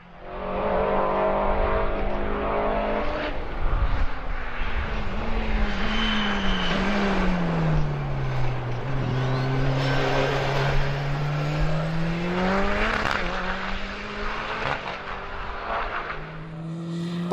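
Westfield race car lapping the track at Super Lap Scotland, its engine note rising and falling through gear changes and corners, loud and continuous throughout.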